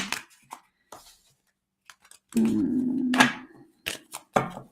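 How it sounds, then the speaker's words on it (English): Tarot cards being shuffled by hand: a dense papery riffle runs for about a second, framed by a few scattered light taps and rustles of the deck before and after. "Just going to shuffle that once more for you, Gillian."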